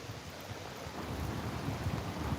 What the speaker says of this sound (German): Und es regnet ohne Unterlass,